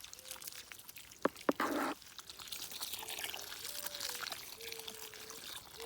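Water poured onto garden plants and trees, a steady soft splashing and trickling stream close by, briefly louder in a short gush, with a couple of sharp knocks and faint background noise.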